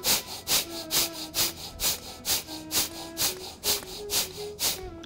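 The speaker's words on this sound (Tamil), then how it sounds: "மூச்சை நல்லா ஸ்பீடாக உள்ளெழுத்து வெளியிட போகிறாங்க" Rapid kapalabhati yoga breathing repeats in about ten sharp, evenly paced breathy pulses, close and fairly loud, with a faint voice or hum underneath.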